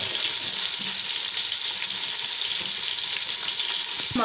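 Chicken biryani masala frying in a pan, a loud, constant sizzle with bright hiss and occasional stirring scrapes, close and uninterrupted with no talking.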